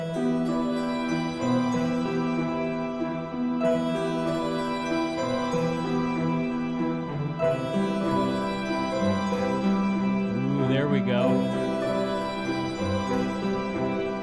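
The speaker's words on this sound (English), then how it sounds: "can you believe that what you're hearing is a harpsichord?" Bright, plucked harpsichord tones layered into a sustained, synth-like texture, playing steadily throughout, with a brief spoken remark near the end.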